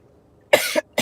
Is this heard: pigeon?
no